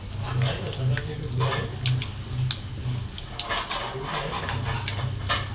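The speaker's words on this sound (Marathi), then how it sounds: "आणि मोहरी आपली चांगली कड करू द्यायची" Mustard seeds crackle and sizzle in hot oil in a kadhai, a steady close hiss with scattered sharp pops running throughout, while curry leaves fry alongside.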